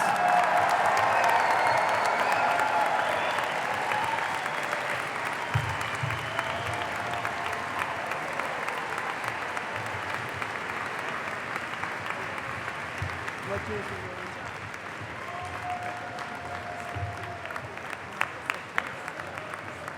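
Sustained applause from a commencement audience at a doctoral hooding ceremony, dense steady clapping throughout that eases slightly toward the end, with some crowd murmur underneath.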